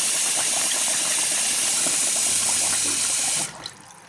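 A steady splashing stream of water pours into a vessel of soaking rice and lentils for idli batter for several seconds, then cuts off abruptly, leaving a quiet room tone.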